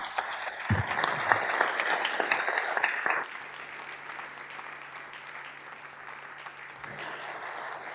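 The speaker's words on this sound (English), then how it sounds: "stand up and give him a round of applause for being here" Audience in the South Dakota House of Representatives chamber applauding a guest, dense clapping for about three seconds, then dropping to a lower, thinner patter with a steady low hum beneath.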